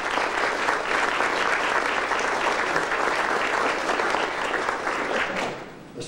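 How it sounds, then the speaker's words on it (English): Sustained applause from a banquet audience honoring veterans fills the room, dense and even clapping that holds steady for several seconds before thinning slightly at the end. "And I think we ought to give them one more round of applause."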